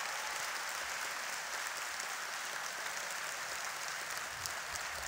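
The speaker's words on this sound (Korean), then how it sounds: "우리 들어가실 때까지 큰 박수로 부탁드리겠습니다." A church congregation claps continuously at a teachers' appointment service, a dense uniform patter of many hands heard from a distance, sustained for about five seconds without speech.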